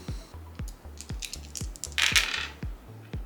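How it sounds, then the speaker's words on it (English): Small game dice for a fantasy board game rattled and rolled onto a table, a rapid run of close clicking and clattering impacts with a brief burst of jangling in the middle. "Reroll all mana dice."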